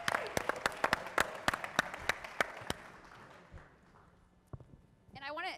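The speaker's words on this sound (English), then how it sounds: "Give yourselves a round of applause." Scattered, sparse clapping from a summit audience, with a few distinct sharp claps in an uneven rhythm that thins out after about three seconds. A voice speaks briefly near the end.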